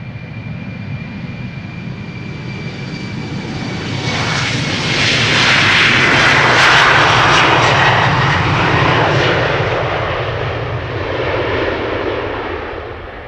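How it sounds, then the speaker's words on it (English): A KLM Embraer 190 jet takes off at Amsterdam Schiphol Airport, its loud engine roar building steadily to a broad peak mid-way and then easing off slightly as it climbs away. "Taking off right now is an Embraer 190 to Göteborg, KLM flight"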